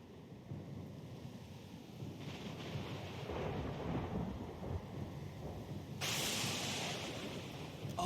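Thunderstorm at sea in the video game Pillars of Eternity 2: steady rain and wind-driven surf roar throughout, with rolling thunder swelling midway and a louder crash of storm noise near the end, no voices.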